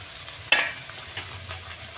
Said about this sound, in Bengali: এইটা হচ্ছে আমি এইভাবেই পাবদা মাছ ভাজি